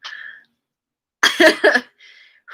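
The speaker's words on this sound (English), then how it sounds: "Sorry for coughing so much." A short breathy sound, then a quiet pause, then a close burst of two or three harsh coughs followed by a soft exhale.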